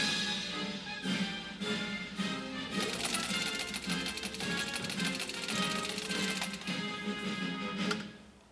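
Singer 15-91 sewing machine stitching through layered leather, vegan leather and vinyl, a fast steady mechanical clatter of needle strokes, close and continuous for several seconds before stopping.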